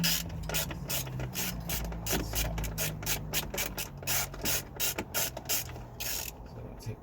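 A socket wrench ratchets on tight car radio bolts during a dash radio swap, with rapid, close, repeated clicking in bursts that runs steadily throughout.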